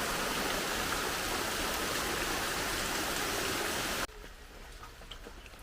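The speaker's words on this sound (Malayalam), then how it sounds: "മഴയുടെ ശക്തി കൂടിക്കൂടി വരുന്നു" Heavy rain pours down in a dense, loud, steady roar of hissing noise, then abruptly falls to a much quieter patter of drops for the last stretch.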